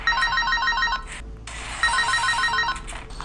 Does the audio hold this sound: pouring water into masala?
no